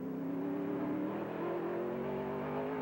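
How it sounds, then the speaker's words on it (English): A NASCAR stock car engine drones steadily from inside the car during a race, a loud, continuous low roar with a slowly shifting pitch. "Now we're inside of Cale's car"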